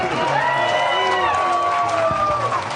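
A packed crowd at a Bassmaster Elite fishing tournament weigh-in on Lake Hartwell cheers and whoops loudly and continuously, with voices and shouts rising over a steady roar of applause.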